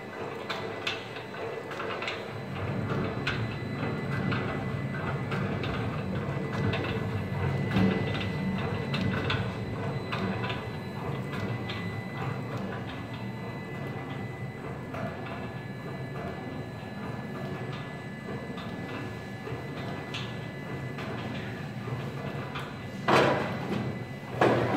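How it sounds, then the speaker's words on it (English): A sample cleaner machine with a rotating cylinder runs steadily and loudly for the whole stretch, a constant mechanical drone with light rattling and ticking, and a few sharper knocks near the end. "Now cylinder starts."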